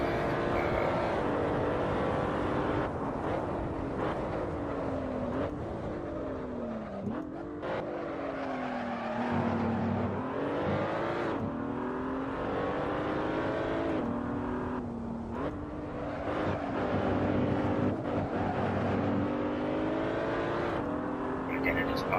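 A race car engine drives through the video game Assetto Corsa, revving up through gears and dropping on downshifts into corners in a steady loud drone, with someone talking over it throughout.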